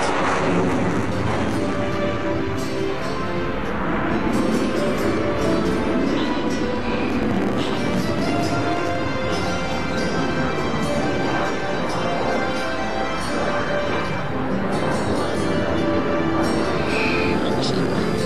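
F-16 jet with afterburner lit, pulling up into a tight spiral climb during an air show demonstration, a steady loud broadband roar sustained throughout, with voices talking over it.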